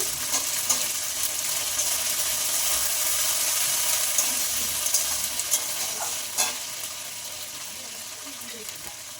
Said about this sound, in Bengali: দেখো টমেটোগুলো দিয়ে দিচ্ছি